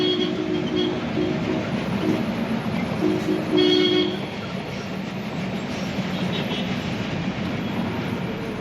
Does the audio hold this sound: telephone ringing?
no